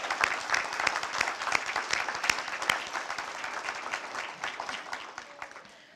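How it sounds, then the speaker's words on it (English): Audience applause at an outdoor Arbor Day ceremony, a steady dense clapping from a crowd that holds for several seconds and then gradually thins and fades toward the end. "let's give them a big round of applause for their hard work as well"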